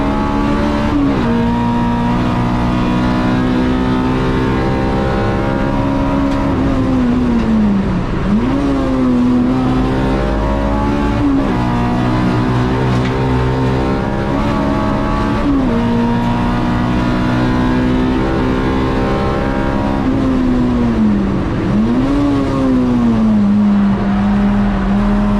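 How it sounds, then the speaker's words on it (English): A Tegiwa Racing Honda Civic race car on a time attack hot lap at Oulton Park, its engine screaming loud and steady, with repeated rising revs, sharp gear-change dips and falling pitch through braking zones. "the Tegiwa Racing Honda Civic of Michael Birch"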